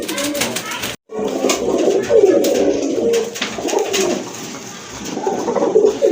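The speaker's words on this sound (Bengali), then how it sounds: "এটা এক জোড়া ড্যানিশ কবুতর।" A pair of black Danish pigeons coos close and loud, with repeated throaty rolling calls running almost continuously after a brief silent break near the start.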